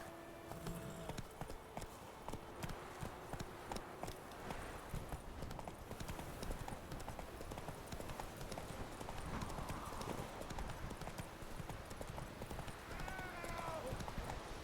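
A horse gallops in The Witcher Wild Hunt game, its hooves pounding in a fast, steady clip-clop rhythm for the whole stretch, with a brief whinny near the end and a voice speaking faintly over it.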